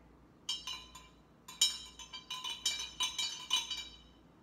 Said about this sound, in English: we're going to stir it around a little bit. I'm just gonna use a spoon from my kitchen.